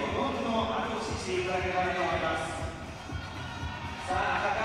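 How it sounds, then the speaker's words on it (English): Spectators at a Japanese climbing competition call out encouragement in a steady, partisan but polite roar of overlapping voices, loud and continuous throughout. "Plenty of gamba from the crowd."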